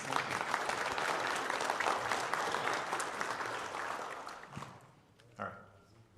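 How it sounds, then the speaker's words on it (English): An audience at a community scam and fraud seminar gives a sustained round of clapping that fades out after about five seconds, followed by a brief bump of noise. "Can we give him a round of applause?"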